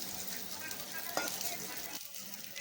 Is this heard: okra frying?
yes